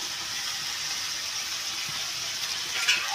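A ground spice paste with turmeric and salt is sautéed in a pan for a spicy pabda fish curry, giving a steady, close frying sizzle with a faint stirring scrape near the end.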